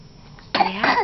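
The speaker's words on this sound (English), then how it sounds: "coughy cough" A young child gives a single short cough, close and fairly clear against a quiet indoor background.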